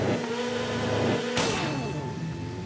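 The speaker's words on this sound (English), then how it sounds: "And here we are revving up at the start." Honda Supersport motorcycle engine revving hard on the start line in TT Isle of Man, a steady loud mid-pitched drone with a sharp burst of rising revs partway through.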